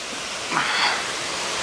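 A waterfall roars as broadband rushing water from the top of the cascade, loud and steady throughout the short stretch with no talk.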